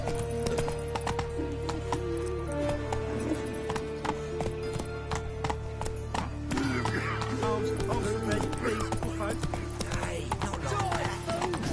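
The horse Roach gallops in The Witcher 3, a steady, close clip-clop of hooves running through the whole stretch under music. A whinny and a speaking voice come through midway.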